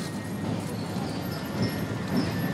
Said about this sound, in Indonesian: sayup-sayup kita dengar derap langkah kuda memasuki gerbang Istana Merdeka